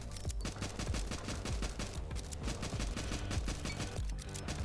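Turrets fire rapidly in the survivors-style video game Nimrods, dense overlapping bursts of automatic gunfire with sharp repeated shots and thumping impacts throughout.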